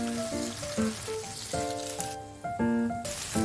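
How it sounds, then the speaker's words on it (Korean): Tofu slices pan-frying until golden, giving a steady soft sizzle beneath prominent background music, with no talking. "두부를 노릇노릇하게 익히고"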